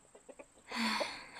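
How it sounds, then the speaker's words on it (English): Chickens in a psychological horror video game, with a few short clucks followed by a louder, raspy squawk from a bird nearby, and no talking. "She's looking at the chickens."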